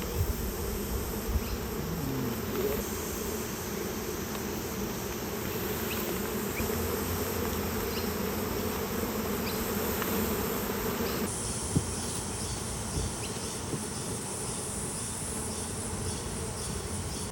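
Dense, steady buzzing of a honey bee swarm clustered around a wooden hive box outdoors, a continuous close hum of many wings holding level for the whole stretch with no talk.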